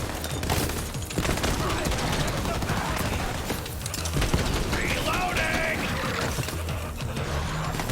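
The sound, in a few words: gunfire in Borderlands 3 video game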